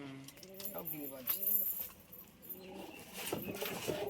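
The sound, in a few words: giribaz pigeons cooing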